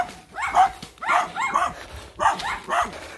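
A dog on a hillside in the Philippines barks four or five times in short, loud, close yaps, arriving in uneven pairs with brief pauses between them.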